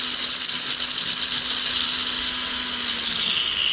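A rotary tool fitted with a silicone polishing wheel grinds against a ring, giving a steady high whine with a faint constant hum beneath, close and continuous for several seconds before easing slightly near the end.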